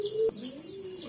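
Domestic pigeons give a single soft, near coo with a brief fluttering rise, over faint background chirps; no one speaks.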